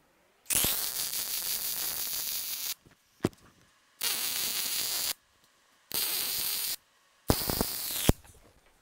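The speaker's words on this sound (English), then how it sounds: "So I'm going to solid weld this and then do a couple stitch welds." A wire-feed welder lays a solid weld on a steel gusset in several steady buzzing bursts of a second or two each, separated by short silences, close and fairly loud.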